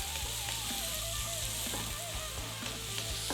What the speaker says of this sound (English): Onions and celery in. I'm going to cook those for about 5 minutes.